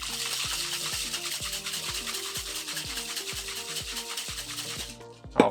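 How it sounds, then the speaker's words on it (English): A cocktail shaker is dry-shaken with egg white for a lemon meringue cocktail, giving a steady, rapid rhythmic rattling and sloshing for about five seconds, close and fairly loud, then stopping with a brief clunk. "we're gonna give it a good kind of a dry shake"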